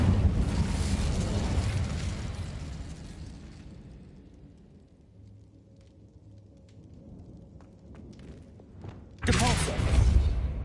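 An Incendio fire spell goes off in Hogwarts Legacy as a loud burst of roaring flame that fades to quiet, then a second sharp, loud blast near the end.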